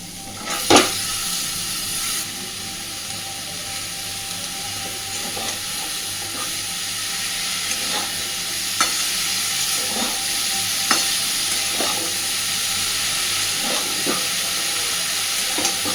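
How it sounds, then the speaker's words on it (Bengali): Chopped snake gourd going into a hot pan with shrimp for a Bengali dish, a loud continuous sizzle with repeated scraping and tapping strokes of a spatula, steady throughout and close, no talking. "একটু নাড়াচাড়া করে নিয়েই এবার দিয়ে দিচ্ছি কেটে রাখা চিচিংড়ি"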